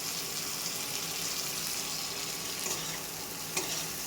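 Shrimp sautéing with masala spices in a pan, giving a steady, dense close sizzle and frying hiss with faint stirring scrapes throughout, no voices.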